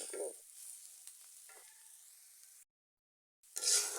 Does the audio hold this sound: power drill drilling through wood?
no